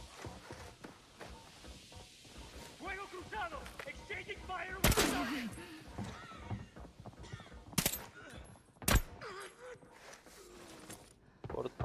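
Gunfire from an M4A1 rifle in the online shooter Arena Breakout, with several loud sharp shots and short bursts cutting through game ambience and footsteps while players chatter in between.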